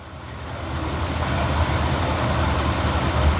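A low, steady car engine rumble idles close by, running slightly rich, growing slightly louder over a few seconds, with no talking.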